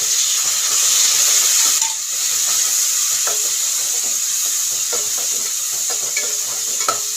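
Onion, chilli and tomato fry and hiss loudly in a pan for dried fish curry, a dense continuous sizzle close up with occasional spoon scrapes and taps.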